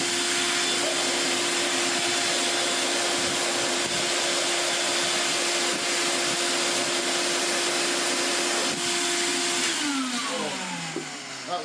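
A Hoover Portapower S1126 vacuum runs in blowing mode, pushing fine dust out of its uncleaned hose with a steady, loud whining roar and a high tonal hum that wavers and drops slightly near the end.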